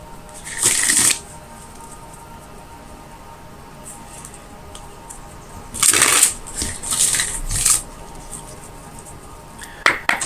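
Tarot cards are shuffled close up in a few quick riffling bursts, one brief, a longer flurry in the middle and a final short one, with quiet handling in between.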